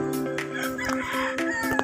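Gamefowl rooster on a game farm crowing up close, a loud harmonic call with a few clucks mixed in, heard alone in one short burst.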